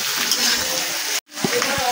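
Potato pieces frying in a pan with salt sprinkled over them: a steady, close sizzle that cuts out briefly, then returns with a few soft stirring knocks.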